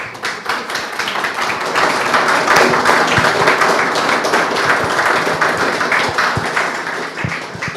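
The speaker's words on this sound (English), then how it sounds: "I was about to suggest that everyone give a round of applause to John, but we've had the round of applause" Sustained applause from a large audience at a Berlin talk, dense and even throughout with a few sharper individual claps standing out, no voices over it.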